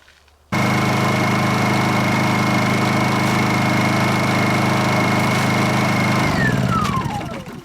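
A Honda EU2000i inverter generator starts abruptly and runs at a steady, loud mechanical drone close by, then its engine note drops and winds down near the end, no talk.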